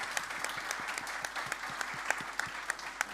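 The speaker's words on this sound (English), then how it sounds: "A big round of applause to all our panelists." Audience at a transport policy conference applauding the panelists, a moderate room of distinct, fairly quiet claps pattering steadily, heard alone.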